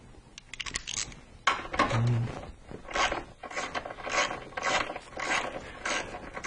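Ratchet wrench turning a 13 mm hex socket during automotive work on a crankshaft position sensor, giving bursts of close, rapid clicking pawl ratcheting with mechanical rubbing between strokes.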